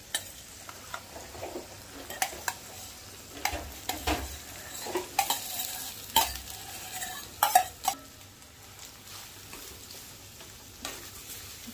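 Cooked rice being stirred gently in a pan for Kerala-style lemon rice, with soft scraping and light sizzling plus occasional clinks of a spoon against the metal, no voices.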